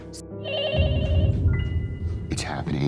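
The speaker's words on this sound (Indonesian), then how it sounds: "Namun pembicaraan terhenti tatkala sebuah panggilan telepon tiba-tiba saja berdering." A telephone rings in a scene from the horror film Scream 7, a melodic electronic ringtone repeating its tones over rumbling film sound and brief voices.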